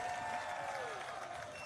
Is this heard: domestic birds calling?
no